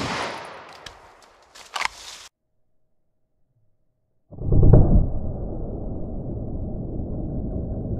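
A .40 caliber pistol fired into plain clear ballistic gel: a short burst of noise, silence, then one loud sharp report followed by a ringing, decaying tail at close range.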